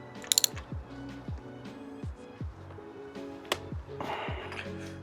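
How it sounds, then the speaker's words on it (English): A ratchet clicks in short bursts while spark plugs are torqued down on an outboard motor during winterization, with a few sharp metallic ticks and music in the background. "now that we have our spark plugs back in and torqued down"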